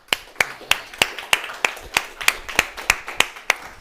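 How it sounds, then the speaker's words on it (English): Sharp, evenly spaced hand claps, about a dozen in a steady rhythm, greet a speaker being welcomed onstage at a Web3 gaming tools talk. The claps are close and distinct rather than a dense crowd roar. "So a round of applause, please, for Michael Sanders from Horizon."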